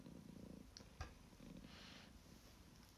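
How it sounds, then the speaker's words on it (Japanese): A cat purrs softly and steadily at close range, a low rumbling pulse that rises and falls in waves, with a brief bump and light rustle partway through. "音のゴロゴロ大きいもんね"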